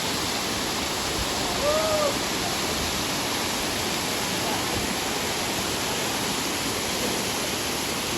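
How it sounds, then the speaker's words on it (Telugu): Water pours steadily at Kollabailu waterfall near Madanapalle, heard as a dense, unbroken roar close by with no breaks and no talk over it. "ఏం పడుతున్నాయి నీళ్ళు మాత్రం సూపర్గా పడుతున్నాయి"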